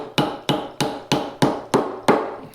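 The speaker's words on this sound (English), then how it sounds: "So no point hammering your arms off." A wooden mallet strikes a chisel to cut a mortise in wood for a workbench: seven sharp, evenly spaced knocks ring out loud and close, each fading quickly before the next blow.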